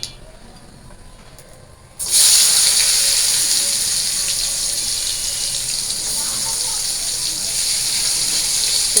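Onions dropped into hot oil set off a sudden loud, steady sizzle that starts abruptly after a quieter stretch and keeps hissing evenly, close up, to the end.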